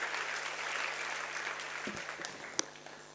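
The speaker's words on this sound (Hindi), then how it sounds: "एक बार अब्दुल जी कलाम साहब की वजह से एक बार जोरदार तालियां बजाओ" Audience applause at a motivational success lecture, a steady wash of clapping from a crowd that holds evenly and then thins out, with a few sharper individual claps near the end.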